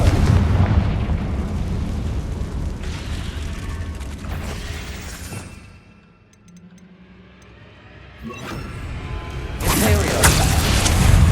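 Loud, dense booming and rumbling blasts from a Confringo spell explosion in Hogwarts Legacy, continuous for several seconds with a brief dip in the middle before the rumble swells back up.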